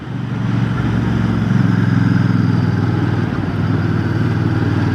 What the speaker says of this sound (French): Je descends à 2500 tours minute et je réaccélère et ça reprend les tours.